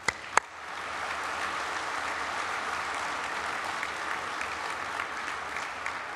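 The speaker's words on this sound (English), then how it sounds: "Can we give them a round of applause, please?" Conference delegates of a sheet metal workers' union meeting in Chicago applaud steadily as a big crowd, a few sharp claps at the start and then a dense, sustained wash of clapping that carries on evenly to the end.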